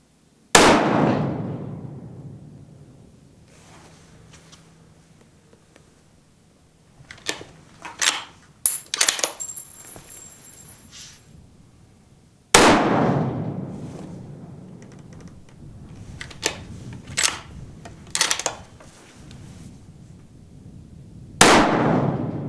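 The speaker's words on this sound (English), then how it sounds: "I'm going to put some shots downrange" Three loud, sharp rifle shots fired outdoors from a hunting rifle fitted with a Leica Amplus 6 scope, spaced several seconds apart, with bolt-cycling clacks and handling clicks in between.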